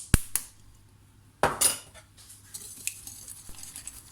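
Vanilla and sugar being mixed in a bowl for a cake batter, a couple of sharp utensil knocks against the bowl, then intermittent clinks and soft scraping with quiet gaps, no talking.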